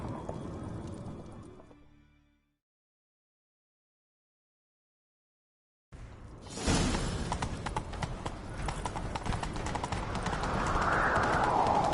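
Rapid hoofbeats of galloping horses in a video game pound steadily after a brief silence, with whooshing movement and a rising game soundtrack layered underneath.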